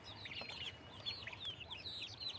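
Chickens kept in confinement cluck and chirp softly in a steady, scattered stream of short calls over a low background hum, with no talking.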